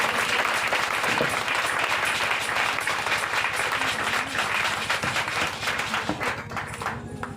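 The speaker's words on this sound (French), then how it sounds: "Acclame très fort le Seigneur qui a fait le miracle" A church congregation at an evening revival service applauds loudly and continuously, a thick, steady wash of clapping that fills the whole stretch, with a few faint voices underneath.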